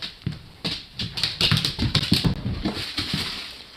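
A dog rummages in a crinkly bag of Funyuns snacks, making close, loud rustling and crackling with quick pawing taps, in bursts that carry on without pause.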